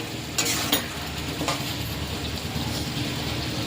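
Pumpkin curry stirred in a pan on a low flame: a steady soft sizzle runs throughout, with a few sharper scraping stirs of the spoon against the pan near the start.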